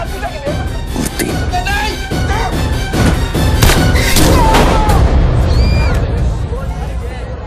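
A loud gunshot-like boom lands amid a tense, crowded scene of shouting men, the blast rising out of heavy talk and commotion that continues around it.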